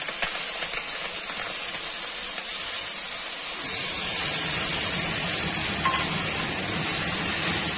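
Slit green chillies hit hot oil on lowered gas, giving a steady broad sizzling hiss that jumps noticeably louder midway and holds, close and continuous with no voices.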